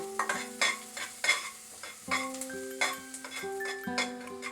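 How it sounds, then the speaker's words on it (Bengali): Chopped garlic frying in melted butter over a medium flame, with repeated close scraping and stirring strokes against the pan over a soft sizzle, plus a few light metallic rings, no talking. "রসুনটাকে মিডিয়াম ফ্লেমে আমি 30 সেকেন্ড ফ্রাই করব"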